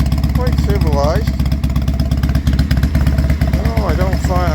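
A Norton motorcycle engine idles with a steady, throaty exhaust note, close and continuous throughout, while a voice talks briefly over it.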